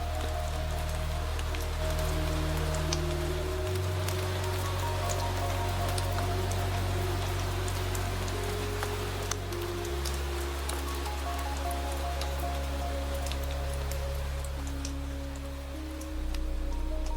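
Rain falls steadily as a soft, even patter across the whole stretch, beneath sustained low droning synth pads that shift pitch slowly, with no voices present.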